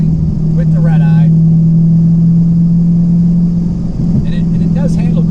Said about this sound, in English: Now here we are going into a turn with the Red Eye